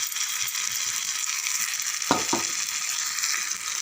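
A ground coconut mixture is stirred in a hot pan with a constant sizzling hiss, and a couple of spoon scrapes and knocks come midway. No voices.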